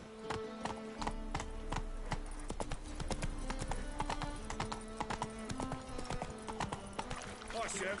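Roach, a horse in the video game Witcher 3, clip-clops at a steady trotting rhythm beneath a game music score, with a voice speaking over the hooves.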